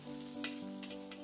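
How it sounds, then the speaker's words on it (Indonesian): Anchovies fry in a modest amount of oil for spicy anchovy tempeh, giving a steady, faint sizzle with soft stirring scrapes and no talk. "Sekarang saya akan goreng ikan teri dengan minyak secukupnya saja."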